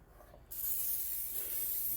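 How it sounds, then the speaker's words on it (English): Olive-oil-flavored non-stick cooking spray hisses onto a muffin pan in one continuous close, steady burst after a brief quiet start. "take and spray your pan with some the non-stick spray."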